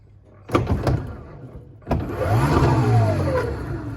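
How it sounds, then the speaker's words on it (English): An unloaded electric motor on a VESC current controller spins up freely, two sharp clicks followed by a rising, whining whir that climbs and holds at speed, close and fairly loud. "with there not being any load on the motor, it will just run away up to sort of maximum speed"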